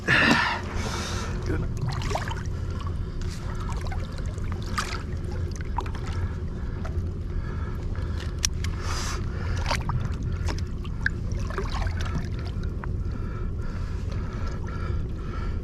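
Outboard boat motor running in gear on Long Island Sound while striper fishing, a steady low drone with water slapping and wind, close and continuous.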